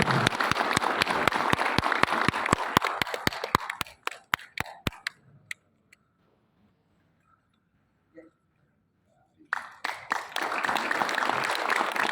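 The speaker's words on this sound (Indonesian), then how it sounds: "kita sambut dengan tepuk tangan ini." Audience applause at an inauguration ceremony of a Tri Dharma temple association in Indonesia, dense clapping that thins into scattered claps and fades to near silence, then resumes strongly near the end.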